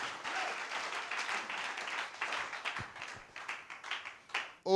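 Church congregation applauding during a sermon by a pastor: steady, moderately close clapping that swells and fades in uneven waves before a brief louder burst at the end.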